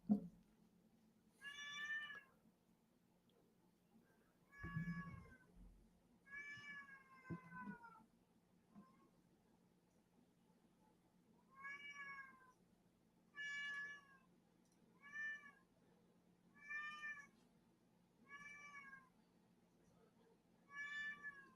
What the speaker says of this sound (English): The cat is just screaming nonstop.